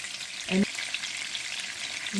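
Chicken muthi kabab shallow-frying in a moderate amount of hot oil, a faint, steady sizzle with one brief stirring knock.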